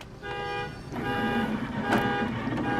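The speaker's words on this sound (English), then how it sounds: "Those alarms going crazy out there." Car alarms sound outside in steady tonal wails and beeps heard from a distance, layered over the constant hum of an embroidery machine running indoors.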